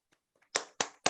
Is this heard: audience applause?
yes